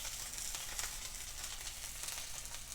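A salmon fillet sizzles steadily in a hot pan, a continuous close crackling hiss of frying oil with small pops, no talking.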